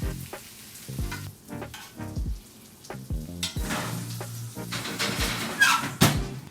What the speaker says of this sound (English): Now we about to baste our steak before we put it in the oven.